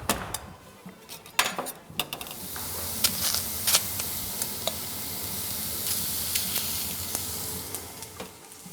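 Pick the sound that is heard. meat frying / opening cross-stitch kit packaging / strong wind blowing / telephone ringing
meat frying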